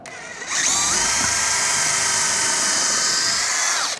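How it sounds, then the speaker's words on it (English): A power drill whines loudly at a steady high pitch for a few seconds, starting abruptly and winding down at the end, close by. "if I just drill some holes through here"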